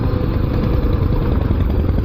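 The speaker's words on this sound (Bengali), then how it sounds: "এটাই হচ্ছে ইঞ্জিন ব্রেক।" Suzuki Gixxer motorcycle engine braking, a loud, close, steady engine drone with rough clattering texture, sustained without pause.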